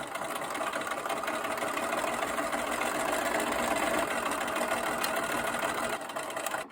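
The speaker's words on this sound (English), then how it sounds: "continue sewing" A sewing machine stitching quilt pieces for a lone star block, a steady fast mechanical whirr running continuously and close for several seconds before stopping abruptly.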